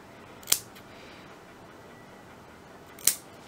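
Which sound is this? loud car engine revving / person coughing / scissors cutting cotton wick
scissors cutting cotton wick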